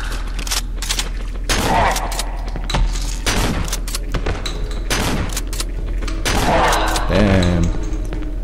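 Gunfire in the horror video game Cry of Fear: several sharp gun blasts scattered across the clip, loud and close, amid game noise and creature sounds, with a voice talking in between.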